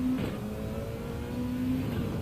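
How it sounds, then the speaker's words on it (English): Race cars running down Kemmel and up Eau Rouge at Spa in a racing video game, a steady blended engine drone with faint whining tones. "all those cars running down Kemmel and up Eau Rouge right now."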